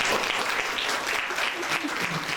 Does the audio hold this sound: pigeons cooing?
no